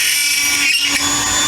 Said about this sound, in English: And then we're going to drill a hole